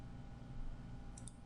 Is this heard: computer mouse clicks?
yes